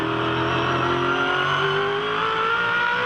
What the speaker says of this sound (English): Have a listen for the throttle as they come onto the straight now.